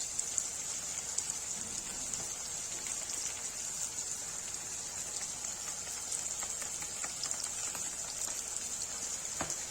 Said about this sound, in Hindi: ये देखिए प्याज भून रहा है।